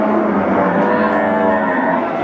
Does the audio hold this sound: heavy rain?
no